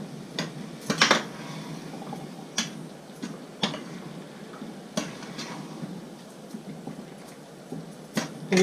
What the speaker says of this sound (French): Vous allez mélanger de nouveau.